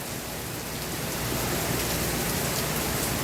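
Heavy rain pours at the Disney Skyliner resorts at Walt Disney World, a dense, loud, unbroken hiss of drops striking surfaces all around, with no talking.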